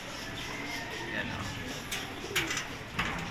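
Racing pigeons coo softly inside a champion fancier's loft, low throaty calls repeating under someone speaking nearby, with occasional wing flutters and small clicks.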